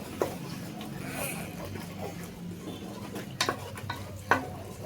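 Spices with turmeric and salt fry in a pan with a soft, steady sizzle, broken by a few sharp clicks and scrapes of stirring.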